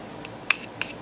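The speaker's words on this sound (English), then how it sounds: "aerosol, really smooth, fine mist" Tarte Maracuja Miracle Mist setting spray fires two short, close aerosol bursts of fine mist, each a crisp hiss lasting a fraction of a second.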